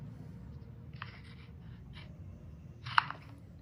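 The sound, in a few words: trimming kinesiology tape along the midline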